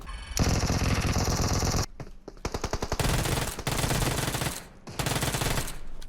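Rapid automatic gunfire in the mobile battle royale game PUBG Mobile, with loud sustained bursts broken by short gaps and quicker staccato shots, all close and dense.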